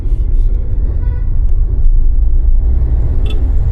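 Car engine pulling and accelerating in second gear during a driving lesson, a steady low rumble of the motor with road and traffic noise around it, fairly loud and continuous, with a brief horn-like tone near the end.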